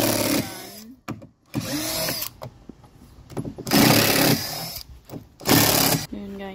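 A power drill works screws loose during a house update, its whine rising in several separate bursts of a second or so each, with short pauses between runs; a voice speaks briefly in one gap.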